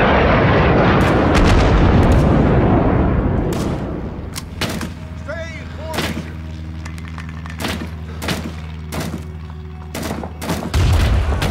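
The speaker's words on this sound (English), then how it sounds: "That was a very good napalm, not gonna lie." Napalm strike in a video game: a heavy, roaring explosive rumble for several seconds, then scattered sharp bursts of gunfire and booms continuing at varied distances.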